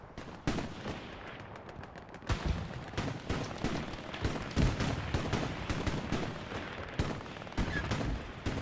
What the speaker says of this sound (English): Nutty, Lucky, and Ace of Spades are already getting some fire